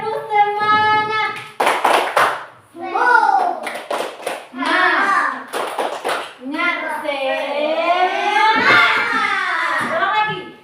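Children chant the rhythmic 'tepuk semangat' clapping routine in a classroom, sung voices interleaved with sharp bursts of hand claps, loud and close.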